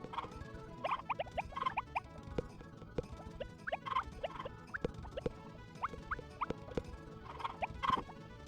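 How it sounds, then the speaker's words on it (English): Chickens clucking and chirping inside a chicken coop in the Harvest Moon video game: short, bright bird calls repeat in loose clusters over a soft background patter, with no talking. "And into the chicken coop we go."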